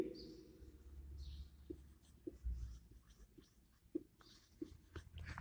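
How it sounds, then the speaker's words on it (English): Students writing in notebooks, soft close scratching of pen or pencil on paper with light taps and rustles, quiet and without speech. "All have to write down this one in your notebook immediately."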